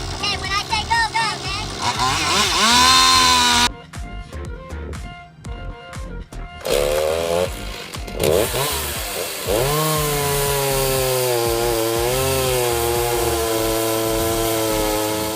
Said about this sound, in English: Add the roller conveyor and chainsaw, and it's like a mini production line.